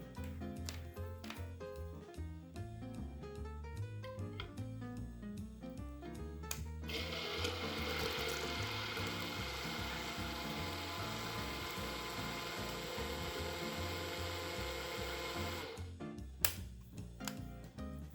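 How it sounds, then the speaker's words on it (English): A stick blender whirs through mayonnaise ingredients with lemon juice, a loud, steady motor drone that holds for about eight seconds after a busier, tonal opening and then cuts off. "And I've got a stick blender."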